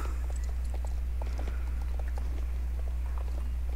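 Steady clip-clop of video game horse hooves at a walking pace, moderately close, over a constant low hum, no talking.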